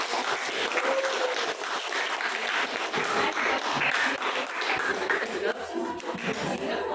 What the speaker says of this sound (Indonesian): Kita beri aplaus dulu untuk kelompok 3.